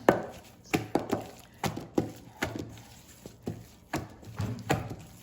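Pizza dough being worked by hand with a splash of olive oil, a recipe from Marco's in Norman, Oklahoma, giving a steady run of soft, close slapping and kneading thumps roughly every half second, with no talk.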